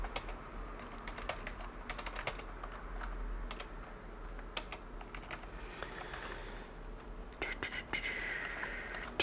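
Rapid computer keyboard typing at close range, a dense run of irregular key clicks with brief pauses, during partitioning work on a DEC Alpha 64-bit Linux machine.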